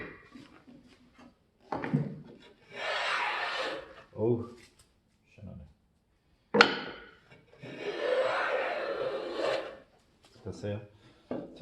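A hand plane draws long rasping shavings across a wooden board clamped in a vise, two extended strokes with shorter scrapes between, fairly quiet, with someone talking in between.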